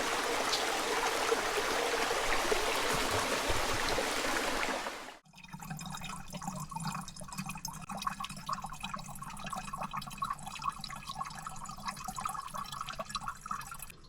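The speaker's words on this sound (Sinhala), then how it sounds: "ඒකට සම්පූර්ණ වතුරක් පුරව ගත්තා." Water runs steadily into a bottle being filled on a mountain trail, with a loud rushing flow for about five seconds that drops to a quieter, continuous trickle.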